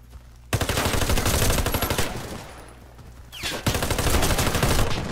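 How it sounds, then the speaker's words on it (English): Loud bursts of automatic fire ring out in Warface on the Farm Sunset map, a long volley, a short lull, then another sustained stretch of shooting with no talk. "I was shooting someone"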